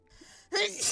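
A single sharp sneeze follows a quick gasping intake of breath, short and close.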